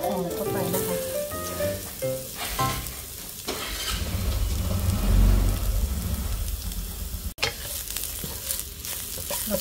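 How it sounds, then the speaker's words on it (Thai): Shiitake mushrooms stir-fry in a pan for spring roll filling, making a sizzling hiss with scraping stirs over low heat, with a deeper rumble midway and a brief sharp click near the end. "แล้วก็เอามาผัดเข้าด้วยกัน"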